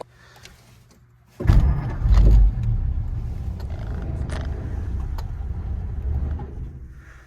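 A 1949 Meteor car engine turns over on a cold start after sitting overnight, bursting in suddenly and loud, then settling into a steady, close rumble with a few faint knocks before easing off slightly at the end.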